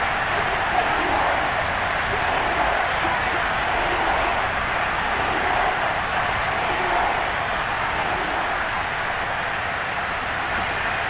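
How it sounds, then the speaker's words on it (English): Stadium crowd noise from the football video game Madden NFL 22 forms a steady, dense roar that holds at an even loudness throughout, with no clear peaks or breaks. "this crowd's going to get even louder"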